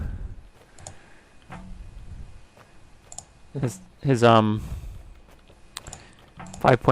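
Rapid computer keyboard typing comes through as scattered, sharp clicks in quick clusters, mixed in with people talking.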